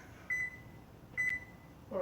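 A kitchen timer being set for roasting tomatillos gives two short electronic beeps, then a third lower beep, quiet and close in a kitchen.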